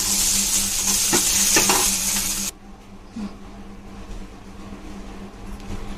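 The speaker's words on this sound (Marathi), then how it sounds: "आता सगळी भेंडी मी थोडी थोडी करून हलकीशी भाजून घेते." Okra (lady finger) pan-roasts with a bright sizzle and a few stirring scrapes for a couple of seconds, then the hiss drops sharply to a low, quiet crackle with faint clinks.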